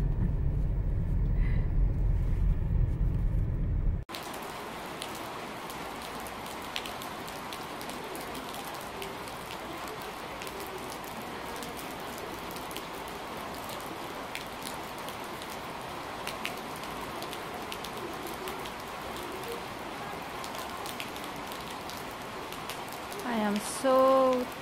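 Steady rain falls on surfaces outdoors, a continuous soft hiss of drops after a brief louder opening section, with occasional passing vehicle noise and a short burst of sound at the very end.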